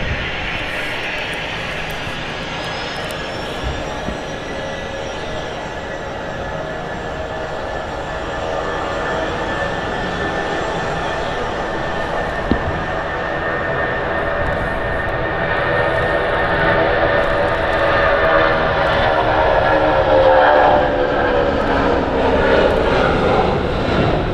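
An Emirates A380 jet at Manchester Airport roars through its takeoff roll, a loud, sustained engine rumble with rising whine that builds steadily and stays heavy and close for the full stretch.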